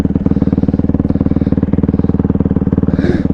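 Honda CRF150RB dirt bike revving through a burnout, its single-cylinder engine throbbing in a fast, even pulse at close range, loud and steady, with a brief rise of tire hiss toward the end.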